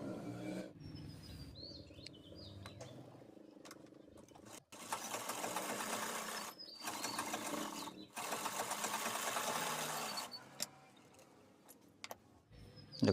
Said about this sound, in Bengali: প্রথমে আমি নিচের সাইডটা আগে সেলাই নিচ্ছি।